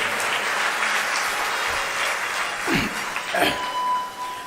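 Sustained applause from an audience at a Hindu religious discourse, a broad wash of many hands clapping throughout, with a voice briefly rising above it.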